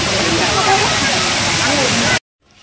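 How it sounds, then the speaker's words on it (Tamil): An artificial waterfall in the bird park at Ramoji Film City roars with a dense, steady rush of splashing water up close, and a voice talks over it before the sound cuts off abruptly. "இங்கே ஒரு ஆர்டிஃபிஷியல் ஃபால்ஸ் மாதிரியே இருக்குது"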